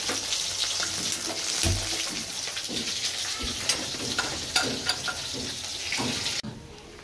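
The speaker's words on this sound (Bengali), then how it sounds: "আমাদের জন্য এই মাছগুলো ভেজে নিচ্ছি" Fish shallow-frying in hot oil in a home kitchen pan, a steady close sizzle with occasional utensil clinks and stirring knocks, no voices.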